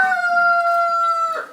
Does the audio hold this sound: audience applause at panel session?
no